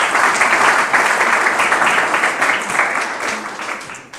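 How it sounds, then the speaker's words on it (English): Steady, dense applause from an audience at a 2013 green business award ceremony in Westchester, sustained and loud for several seconds before tapering off near the end. "we give a round of applause to that group"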